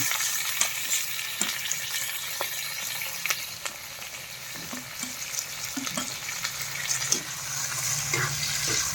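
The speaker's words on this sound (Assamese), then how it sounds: "মাংসটো ভাজোঁ।" Broiler chicken meat fries in a pan with a continuous nearby sizzle and hiss, punctuated by frequent light clicks and scrapes of stirring.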